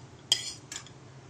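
Two light metallic scrapes and clinks of a spoon against a pan as roasted dry coconut is taken out, close and brief, over a faint low background hum.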